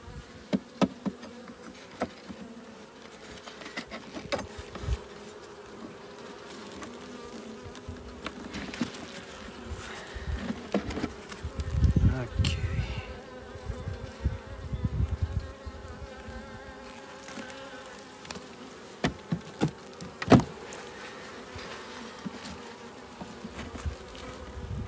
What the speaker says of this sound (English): You can see there's about a frame of bees here